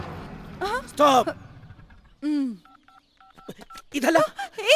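Telephone keypad dialing tones, a quick run of short evenly spaced beeps in a tense Hindi-dubbed South Indian action film scene, set between dramatic spoken lines and vocal sounds.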